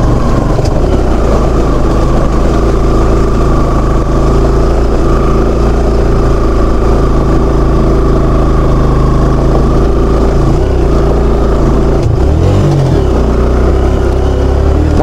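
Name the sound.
motorbike engine revving on steep off-road climb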